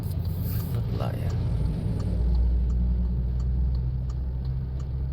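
A car rolling along a road in Vientiane, its engine a steady low rumble throughout, with a voice speaking over it.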